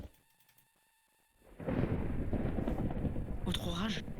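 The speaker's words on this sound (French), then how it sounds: "Autre orage? En plein jour." A video game storm sets off thunder in full daylight: after a quiet opening, a loud, sustained rumble rolls in and holds steady to the end, with a brief higher-pitched sound rising over it near the close.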